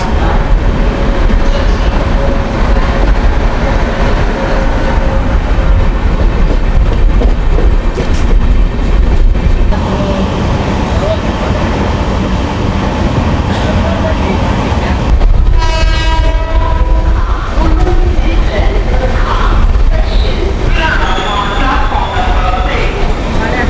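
An Indian Railways 3rd AC economy coach rolls along with a steady loud rumble and rhythmic clatter, heard from inside, with a train horn partway through and voices talking over the noise.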